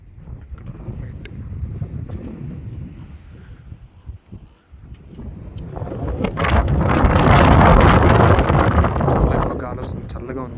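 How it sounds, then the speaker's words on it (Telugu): Strong cold wind buffets the microphone at the Grand Canyon, gusting in rumbling bursts that ease briefly and then swell louder toward the end, with a person talking at the start. "చాలా ఎక్కువ గాలి వస్తుంది, చల్లగా ఉంది."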